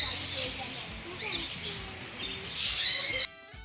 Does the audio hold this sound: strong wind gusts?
no